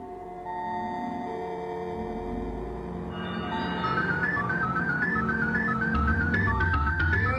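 Sonic CD's American soundtrack boss music from the video game plays alone: sustained dark synth tones at first, then a repeating high melodic pattern with a steady beat layering in, moderately loud and building.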